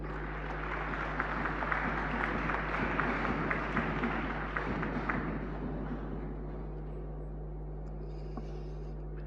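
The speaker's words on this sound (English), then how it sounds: "Sous vos applaudissements, ladies and gentlemen." Audience at a conference panel claps to welcome the incoming speaker, a moderate steady patter over a constant low hum, fading out toward the end.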